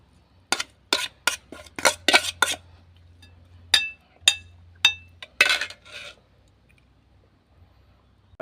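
Ceramic plates and a metal utensil clink and scrape as beef laab is stirred and poured onto a plate, with about a dozen sharp, close knocks in irregular bursts followed by near silence.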